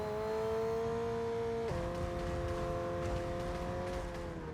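Sports car engine driving in F1 22, a loud steady drone that drops in pitch once as the gear shifts, then holds on with a sustained tone, no talking over it.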